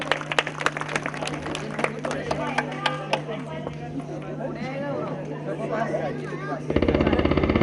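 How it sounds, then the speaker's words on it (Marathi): A crowd claps for the lucky draw winners at a Salam Satara Shivtej Group event in Shahupuri, with bursts of clapping and chatter beneath a loud announcer's voice that dominates throughout. "जोरदार टाळ्या होत्या त्यांच्यासाठी"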